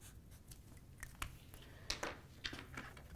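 A marker squeaks and scratches across pattern paper in short, quiet strokes, faint and close with no talking.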